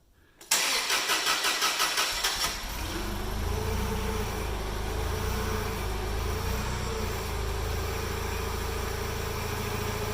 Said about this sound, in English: My assistant is going to start up the forklift and begin the lift.